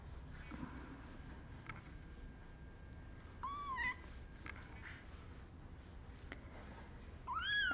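Tiny orphan kittens cry out during their first bottle feedings, giving a few thin, high meows close by against a quiet, soft background.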